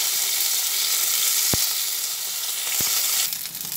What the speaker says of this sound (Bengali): এরপরে সেই যুক্তি ফুলগুলো তেলের মধ্যে দিয়ে দিচ্ছি।